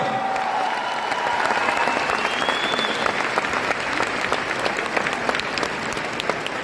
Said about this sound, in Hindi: हमारे ब्रॉन्ज डायरेक्टर्स के लिए बहुत ज्यादा जोरदार तालियां.